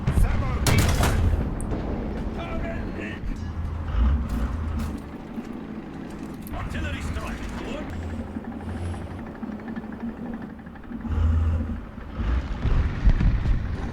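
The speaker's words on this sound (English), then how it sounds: "Artillery finally making a connection." War Thunder tank battle with distant artillery fire: several sharp booms and thuds land over a rumbling engine and background noise, loud at first and then intermittent.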